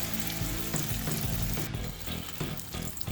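Hot oil sizzles and crackles steadily as a Flamin' Hot Cheetos-coated chicken sandwich fries, with a few soft clinks and bumps from handling nearby.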